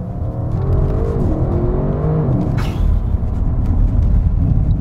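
Audi RS6 accelerating hard, its engine note rising and shifting through gears in one loud, continuous pull heard close from inside or near the car, with no talking.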